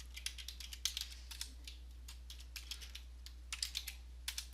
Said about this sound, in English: We're going to type some keywords here across the top